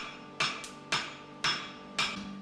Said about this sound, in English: Heating and hammering hot metals is called forging.